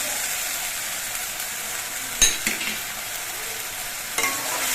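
Ginger, green chilli, garlic and tomato paste fry hard with spices in a pan for a pomfret dish, a loud continuous sizzle broken by a couple of sharp spatula knocks.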